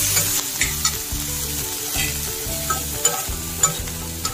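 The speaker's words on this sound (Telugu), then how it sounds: "ఉడికించిన శనగల్ని వేసుకోవాలి. ఒక చిటికెడు పసుపు వేసుకుని మొత్తం అంతా కలిపి" Boiled chickpeas with a pinch of turmeric being stirred in a pan for a Varalakshmi Vratam prasadam, a steady scraping and tossing rhythm with soft sizzling, close and continuous with no talking.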